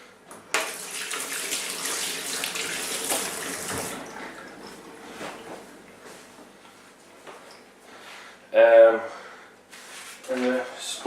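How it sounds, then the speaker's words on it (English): Tap water runs as hands are washed in a home kitchen while cooking, a steady broadband rush for the first four seconds that then fades, followed by brief speech. "Now I need to wash my hands because raw egg."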